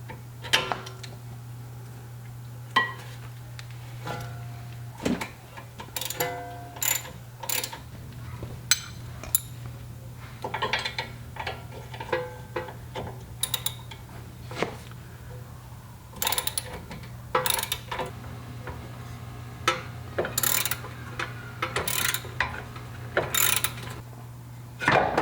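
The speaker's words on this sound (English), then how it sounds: "millimeter socket wrench combo to wrench these off" Socket wrench ratcheting and clinking while loosening bolts on a Honda Civic strut during a coilover install, heard as scattered irregular clicks and metallic taps over a steady low hum in a garage, with no talking.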